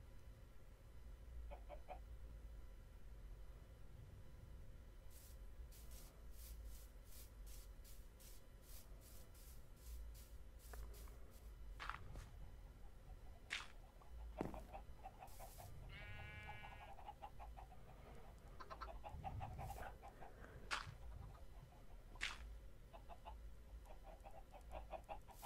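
Chicken clucking in the Minecraft video game: short, quiet clucks and chirps repeat in scattered bursts over a low, steady background hum, with no talk.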